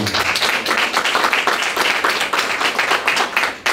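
Audience at a Berthierville press conference applauds the director general, a brisk, uneven patter of many hands clapping, fairly close and sustained for several seconds with no talk over it.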